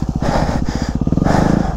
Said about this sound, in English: I want full throttle all the time, baby.